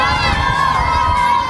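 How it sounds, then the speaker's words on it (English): Schoolchildren at the roadside of a hilly road race circuit in Leuven cheer and shout continuously, a loud, close crowd roar with high-pitched voices throughout. "the school kids are already out cheering us along."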